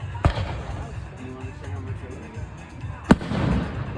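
Fourth of July fireworks show in Harrison, Idaho, with two sharp booming bursts a few seconds apart, mid-distance and echoing, while people chat and murmur nearby.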